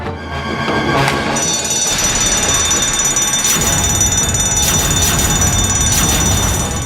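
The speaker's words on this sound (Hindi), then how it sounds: "O God, fire alarm." Fire alarm ringing indoors, loud and continuous, with a shrill high-pitched electronic tone that starts after a brief low-level noise and holds steadily to the end.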